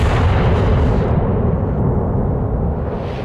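A heavy, sustained rumbling blast of warship guns in World of Warships, loud and close, fading slowly over a few seconds.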